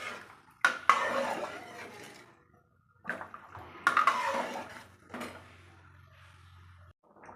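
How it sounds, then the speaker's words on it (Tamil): Spoon clanking against a pot while stirring drumstick and lentil sambar, a few sharp metallic knocks and scrapes in bursts separated by quiet pauses, close and fairly loud. "நல்லா மிக்ஸ் பண்ணி விட்டுக்குங்க."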